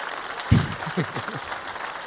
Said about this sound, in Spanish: Yo le pongo los aplausos porque sé que nunca nadie aplaude